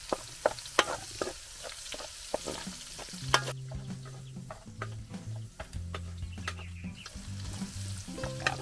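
Garlic sautéing in a pan beside braised pork leg, with bursts of sizzling and stirring clatter, while chickens cluck in the background of a farm setting.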